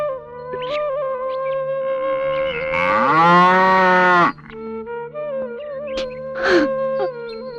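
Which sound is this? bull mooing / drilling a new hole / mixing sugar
bull mooing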